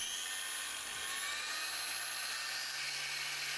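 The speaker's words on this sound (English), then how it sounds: "To start the grinder, you have to press the right button for unlocking once and the left red button twice" Parkside PWSAP 20 Li cordless angle grinder with six speed stages and a motor brake, running steadily with a high-pitched motor whine and a constant airy hiss, held at a fairly even level throughout with no talking.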